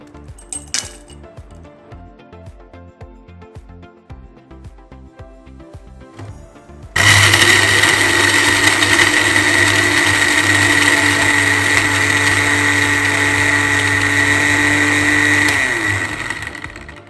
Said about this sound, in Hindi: हमने जो कैरेमल बनाई थी हम इसको भी ग्राइंड करके पीस लेंगे, इसका पाउडर बना लेंगे।